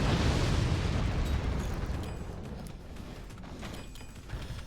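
Rocket weapons exploding in the fort-building strategy game Forts, a dense rumbling burst of booms that is loudest at the start and then settles into a continuous, slowly fading roar of blasts and debris.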